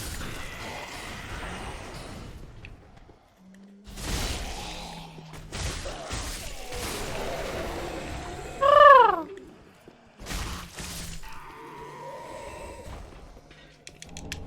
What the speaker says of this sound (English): I heard a bird noise.